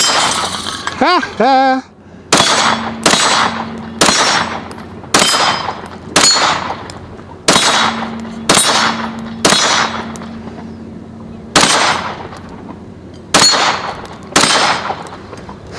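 Repeated 9mm shots from a Canik TP9 SFX pistol ring off steel plates at an outdoor range, about a dozen sharp cracks each followed by a metallic clang, paced steadily with short gaps; a man laughs briefly before the string.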